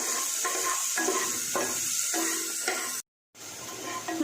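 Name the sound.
sautéing chopped mushrooms in a pan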